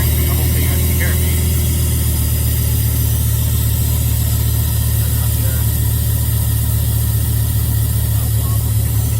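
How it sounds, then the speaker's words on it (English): A Dodge Viper engine runs at a steady, loud, low idle close by, with a constant deep drone and vibration and no change in revs. "Start the car up."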